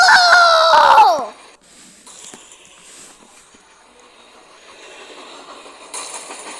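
A train in a video game, loud and tonal for the first second with a sliding horn-like wail, then fading into quieter rumbling rail noise with scattered clanks and a brighter burst near the end.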